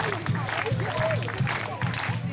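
A crowd of walkers lined up as an honor guard at a Relay for Life event claps and cheers for survivors passing through. Rhythmic clapping and excited voices sound close and lively throughout.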